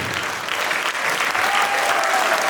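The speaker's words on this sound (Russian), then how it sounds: "давайте еще раз отдарим аплодисментами" Concert audience applauding at a 25th-anniversary solo jubilee show, a dense, steady wash of many hands clapping that fills the hall throughout, with a faint sustained tone creeping in near the end.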